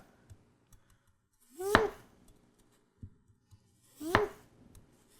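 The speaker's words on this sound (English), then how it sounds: "Nice thin cuts of potato." Two crisp knife strokes slice thin rounds of potato with a Sabol Brothers custom kitchen knife, each a sharp close cut landing on a board, spaced a couple of seconds apart amid faint light taps.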